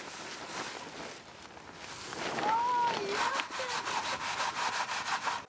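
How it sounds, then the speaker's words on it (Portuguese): Turnip seeds are rubbed through a coarse sieve to clear out larger debris, making a continuous scratchy, rhythmic rasping close by that swells slightly toward the end. "tiramos em primeiro lugar as sujeiras maiores, passando as sementes em uma peneira grossa"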